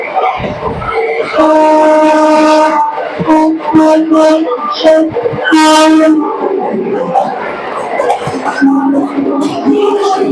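A Sealdah to Dankuni local train running, with long tonal horn blasts standing out over steady rolling rail noise and cabin clatter; voices can be heard in the background.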